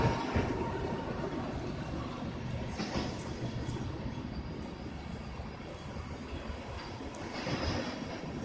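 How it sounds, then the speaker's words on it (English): A train passing near Mentone, Indiana, a broad steady rumble with rail clatter that holds close and fairly loud throughout, swelling slightly near the end, with no voices over it. "There's that train that we keep hearing."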